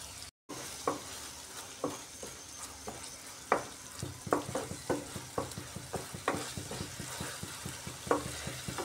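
Ground spices sauté in hot oil with a little water, giving a steady close sizzle broken by regular scraping stirs of a spatula against the pan.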